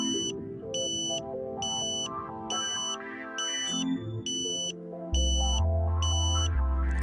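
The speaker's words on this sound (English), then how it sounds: "You then hear the locking tone" Satellite dish alignment locking tone: a repeating electronic beep pulsing about twice a second at an even rhythm, clear and steady, over a low sustained hum that deepens near the end; no speech.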